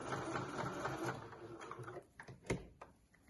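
Sewing machine stitching a pocket onto a pack-away shopping bag: a fast, steady mechanical chatter up close, which stops and starts in short bursts near the end.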